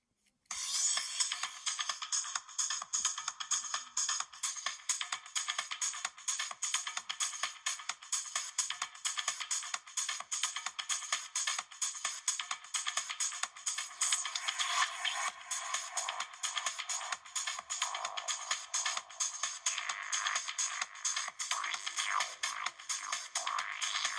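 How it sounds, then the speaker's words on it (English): A thin, bright electronic Motorola RAZR V3i Dolce&Gabbana edition ringtone melody plays continuously for over twenty seconds, with a tinny, slightly noisy tone and no bass. "of course we also have to play the Moto ringtone"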